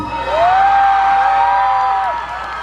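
A studio audience on the noontime variety show It's Showtime cheers and whoops loudly, with a long rising whoop held over crowd noise for about two seconds before it fades.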